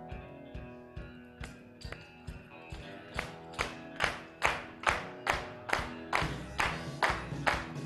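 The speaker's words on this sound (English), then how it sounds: "We're going to start with claps." Cloggers clap in unison to open an Appalachian mountain-style line dance, a crisp, evenly spaced beat of claps that grows louder over backing music.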